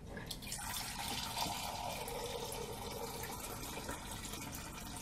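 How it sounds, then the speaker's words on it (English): Hot water poured into a glass, a faint steady trickle of liquid filling the vessel, continuous and close with no talking. "We're gonna pour it in this glass"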